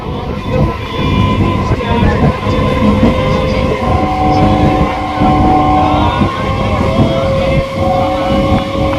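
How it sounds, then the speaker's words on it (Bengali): Loud, close rumble and rattle of a Goghat Local passenger train running out of Howrah toward Haripal, with steady wheel clatter, tonal hums and squeals, and some voices faintly underneath. "ছেড়ে দিল আমাদের ট্রেন"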